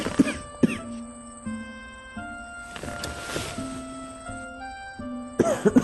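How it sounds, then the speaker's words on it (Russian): A man in a Tajik film coughs in several harsh bursts, near and loud, over a sustained background music score. "и я непрерывно кашлял"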